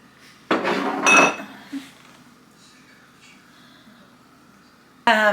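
Onions stirred in a pot while cooking for chili: a burst of metal utensil clinks and scraping against the pot, then a quiet stretch and another clatter at the end.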